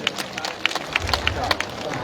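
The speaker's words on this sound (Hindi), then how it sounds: "साधुराम जी के लिए भी जोरदार तालियां। भाई तालियों में कोई कमी नहीं रहे।" An audience at a women's conference in Karsog claps in a scattered patter of sharp hand claps over a low crowd murmur, moderately loud throughout.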